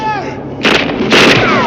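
Two loud booming shots of gunfire from the 1982 film First Blood, heavy and reverberant, the second longer, with a voice speaking beneath at the start.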